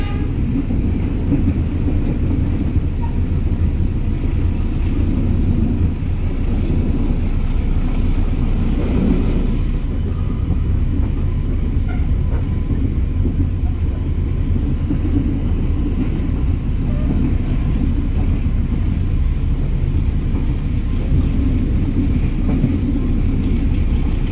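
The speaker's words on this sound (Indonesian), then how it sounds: "Kita tinggalkan stasiun Pucuk dan menuju ke stasiun Lamongan." Blorasura commuter line train travelling between Pucuk and Lamongan stations, a loud continuous low rumble and drone of the moving carriage heard from inside, steady throughout with no talk.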